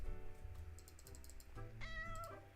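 A cat in the video game Supermarket Together gives two clear meows when petted, moderately loud and close, with faint game sounds in the background.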